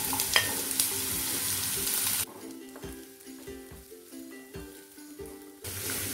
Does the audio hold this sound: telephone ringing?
no